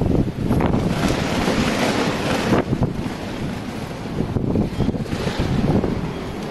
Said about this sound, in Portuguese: O vento começou a levantar placa na rua.